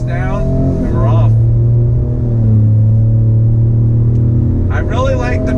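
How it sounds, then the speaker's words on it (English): A 2019 Ford pickup truck engine accelerates with a deep, bassy booming drone that rises in pitch and holds loud and close, with someone talking briefly over it at the start and end. "I really like the bassy boom sound coming from the truck."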